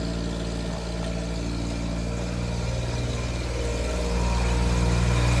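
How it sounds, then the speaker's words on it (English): The Kubota pony motor on a forestry bucket truck runs at a steady idle, a low, even hum and whir that builds slightly louder toward the end, with no voices. "We're currently running off of the Kubota pony motor."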